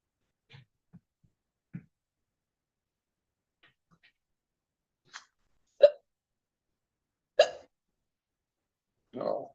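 Hiccups sound in a courtroom as a series of short, sharp bursts spaced a second or two apart, growing louder toward the end with quiet between them.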